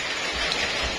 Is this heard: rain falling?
yes